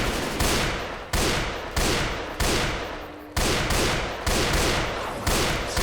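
A Desert Eagle Magnum pistol fires in Left 4 Dead 2, about eight loud, close shots spaced roughly every half second to second, each a sharp crack with a decaying tail.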